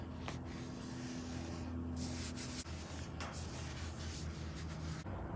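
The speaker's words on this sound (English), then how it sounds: "I like to spray the rag down with brake cleaner a little bit" A rag sprayed with brake cleaner rubbed along a metal rear axle during an overhaul, giving steady close scrubbing and wiping strokes with a brief spray hiss and no talking.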